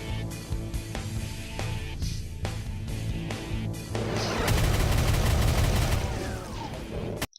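Gunfire in Doom 2, a dense burst of loud shots over game music, building into a heavier, rapid barrage in the second half before cutting off abruptly.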